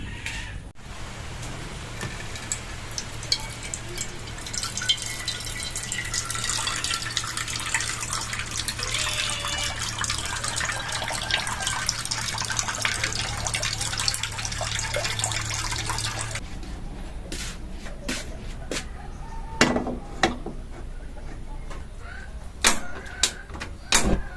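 Tap water pours in a steady, close stream into a cooking pot for heating in a rural Philippine home kitchen, runs for about sixteen seconds, then cuts off, leaving a few light clinks and knocks.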